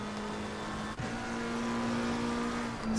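GT3 race cars, a Porsche and a Bentley Continental, passing each other at Zandvoort in Assetto Corsa Competizione, steady engine whine with a gear shift near one second and another near the end, loud and without talk.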